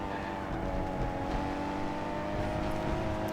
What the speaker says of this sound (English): you can hear I'm rolling off the throttle and just gently pressuring it